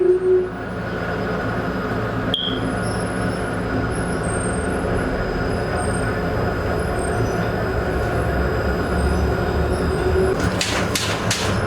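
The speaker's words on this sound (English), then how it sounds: "All right, going for a monorail ride." Onboard a monorail ride, a steady low rumble and rolling hum of the car in motion with faint whines and a few sharp clicks toward the end, no talk.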